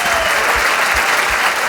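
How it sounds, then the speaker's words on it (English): Loud crowd applause at the close of a debate between Alex O'Connor and David Wood, a brief dense burst of clapping with a low rumble underneath. "Let's give him a round of applause"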